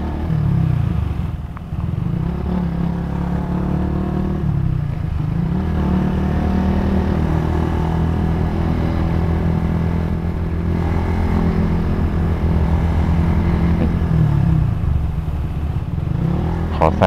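A Yamaha M-Slaz motorcycle rides along a road, its engine droning continuously and close, with small rises and dips in pitch as it accelerates and eases off.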